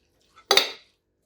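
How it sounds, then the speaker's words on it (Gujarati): A single quick metal stir and scrape of potato millet pulao with baby potatoes in a pan, heard as one short, close clatter after a soft tap. "બરાબર આપણે આને ચલાવી લઈશું."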